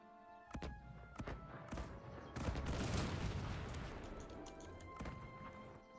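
Artillery and musket fire from a large battle in the strategy game Cossacks 3: repeated sharp blasts at irregular intervals, then a dense, rumbling barrage swelling in the middle and fading, heard at moderate loudness with no talking.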